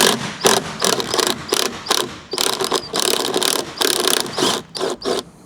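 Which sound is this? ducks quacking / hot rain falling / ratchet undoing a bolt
ratchet undoing a bolt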